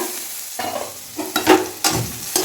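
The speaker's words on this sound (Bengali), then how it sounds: "আর আজকে রান্না বান্না করছি উচ্ছে আলু ভাজা" Bitter gourd and potato slices frying in a pan while being stirred, with spatula scrapes in short bursts over a steady sizzle, close and moderately loud.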